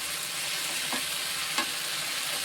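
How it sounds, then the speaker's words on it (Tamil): Sundakkai, turkey berries, saute in plenty of oil, giving a steady close sizzle with a couple of brief spoon scrapes and no talking. "இதை வந்து நல்லா வதக்கிக்கிறோம்"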